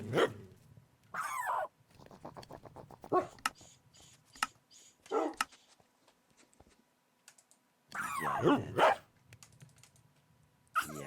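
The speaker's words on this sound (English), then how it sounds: "stop fucking barking at me for like 30 seconds, please" A dog barks in short, sharp bursts in a quiet room, several separate clusters of yips and barks spread over the span, close and fairly loud, with keyboard typing and occasional talking between them.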